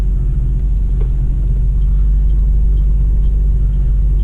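A Nissan Skyline R32 GTR rumbles as it drives and reverses slowly, giving a loud, steady low engine drone heard from inside the car throughout, with no talk.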